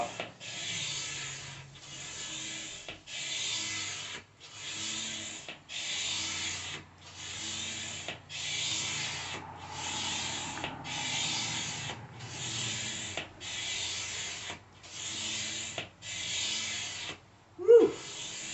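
Hand pump drawing air out of an ITIWIT inflatable kayak, a steady series of about thirteen rhythmic rasping strokes, each a breathy whoosh, close and moderately loud with no talk, ending in a short bump.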